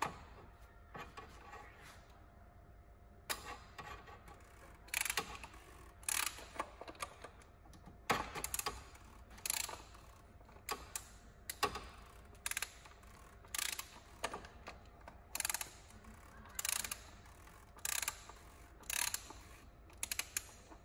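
A hand ratchet tightens the drain plug during a car oil change, giving repeated bursts of quick clicking at an irregular pace, fairly close and alone.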